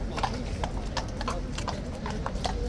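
Horse hooves clip-clop in a steady rhythm, close and fairly loud, over a constant background rumble.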